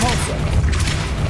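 A Depulso spell cast in the Hogwarts Legacy video game, a dense low boom with a rushing blast lasting just over a second, loud and close.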